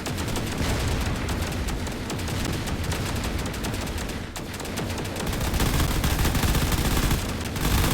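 Video game gunfire, a dense continuous fusillade of rapid shots and bursts, loud and close throughout with a brief dip midway, no talk.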